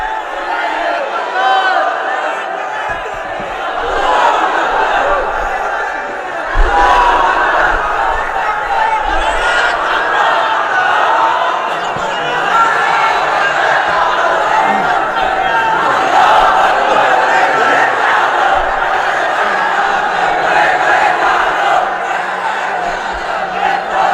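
A crowd at an Islamic religious sermon gathering chants slogans in unison, a dense, continuous roar of many voices that holds steady and loud throughout.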